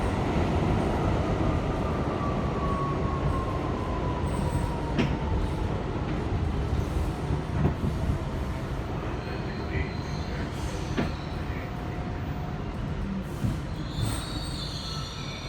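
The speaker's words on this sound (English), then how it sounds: "our 1 train speeds south along one of the final segments of our journey" A New York City IRT 1 subway train rumbles loudly along the rails southbound with a constant roar, wheels squealing and occasional clanks from the track.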